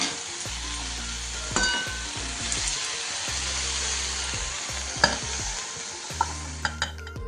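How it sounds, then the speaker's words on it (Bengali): Broccoli is stir-fried in a wok with salt and turmeric, giving a steady frying sizzle over a low hum, with scraping stirs and a few sharp clinks of the utensil against the pan. "এবার ব্রোকলিটাকে একটুখানি নুন হলুদ দিয়ে কষে নিলাম।"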